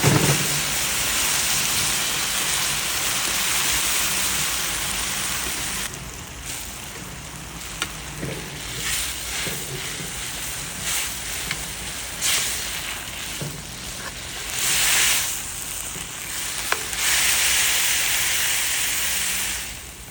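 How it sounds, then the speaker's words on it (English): Ramen broth simmering in a pot: a steady bright hiss and sizzle with scattered small pops and bubbling that rises and falls, close and fairly loud, with no voices. "Let us simmer this down. That's some ramen broth."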